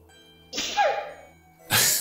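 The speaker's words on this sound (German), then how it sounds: "Muss sie niesen." Lilly, a character in the video game Lilly Looking Through, sneezes: a brief breathy burst that trails off, followed by a second sharp burst, close and clear over a quiet background.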